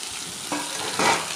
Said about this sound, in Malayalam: കടുക് പൊട്ടി വരുമ്പോൾ അരിഞ്ഞു വെച്ചിരിക്കുന്ന ചപ്പും ഉള്ളിയും ഒക്കെ അതിലിട്ട് നന്നായി വഴറ്റി കൊടുക്കുക